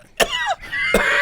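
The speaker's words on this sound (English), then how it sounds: "The air is polluted, making you cough." A person coughs twice from polluted air, two sharp harsh bursts a fraction of a second apart, each trailing into a short breathy rasp, close and moderately loud.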